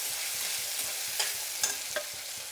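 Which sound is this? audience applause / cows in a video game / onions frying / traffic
onions frying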